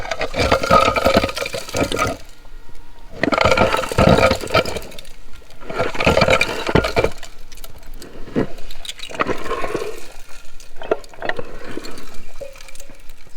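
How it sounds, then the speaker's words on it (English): A grinding, whirring mechanical drone from a faulty transmission in a 1967 Dodge Dart surges in long bursts with brief gaps, harsh and rattly, running close by. "I don't know much about transmissions, but I don't think they're supposed to sound like this"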